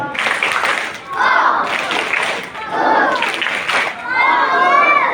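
In a classroom, children perform a rhythmic focus clap, chanting together in short repeated phrases with claps in a steady group pattern, loud and close, in four bursts with brief pauses between.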